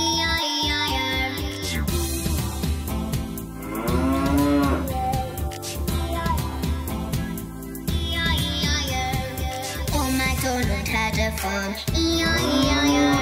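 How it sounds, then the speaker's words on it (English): Cows moo in long, drawn-out calls, several times and loud, set over bouncy children's song music. "And on that farm he had some cows."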